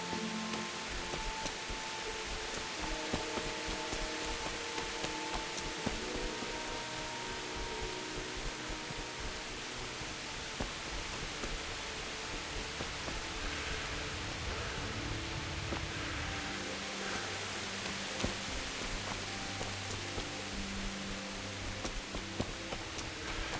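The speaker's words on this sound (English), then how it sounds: "It's been raining a lot recently, hasn't it?" Steady rain falls across a medieval village in Kingdom Come: Deliverance, a constant hiss of close downpour lasting throughout with no pauses and faint background tones underneath.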